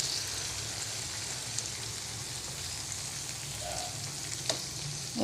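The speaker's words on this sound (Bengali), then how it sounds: "পেঁয়াজটা ভালো করে ভেজে নেব, লাল লাল করে পেঁয়াজটা ভেজে নেব" Chopped onion fries in hot oil with a continuous, even sizzle and crackle, with occasional faint clicks from stirring.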